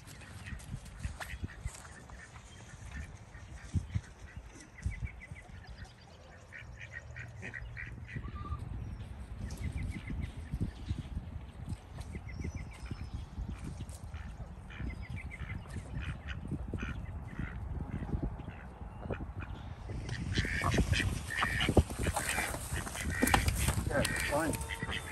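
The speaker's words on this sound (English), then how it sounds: "Now ducks escape" Ducks quack outdoors in a garden during bed cutting, the calls repeated and moderately distant against steady background noise and wind.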